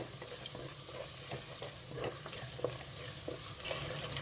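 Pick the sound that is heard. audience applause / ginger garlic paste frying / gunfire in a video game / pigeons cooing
ginger garlic paste frying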